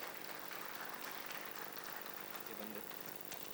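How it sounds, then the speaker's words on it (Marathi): An audience at an annual school fest applauding a guest, Ram sir, heard as a steady, faint wash of clapping from across a hall, with some murmuring underneath. "राम सरांसाठी एकदा टाळ्या वाजल्या पाहिजे जोरदार."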